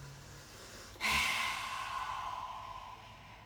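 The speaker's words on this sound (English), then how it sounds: "Breathe in." A single deep, slow exhale of breath during a morning qigong session, a soft rushing breath starting abruptly and fading gradually, close and quiet.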